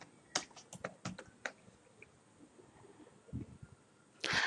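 Typing on a computer keyboard to rename a file, a quick run of crisp key clicks at first, then scattered taps and a brief cluster of soft presses, close and quiet with no voices.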